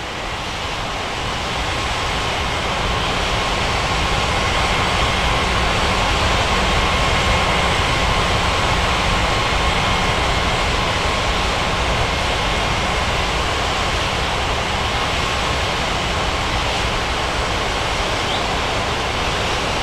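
Jet Airways airliner on approach to land at Chennai airport, a steady, loud broadband jet roar that swells in over the first seconds and then holds constant throughout, with no voices.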